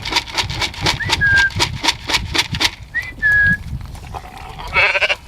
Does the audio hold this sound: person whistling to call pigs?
yes